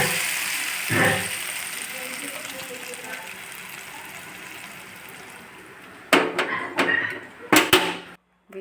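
Tempering spices for a pounded garlic chutney sizzle in hot oil, a steady frying hiss through most of the clip, broken near the end by a few loud clattering knocks.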